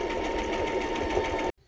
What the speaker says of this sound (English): I'm gonna sew the edges so we don't have it tearing apart.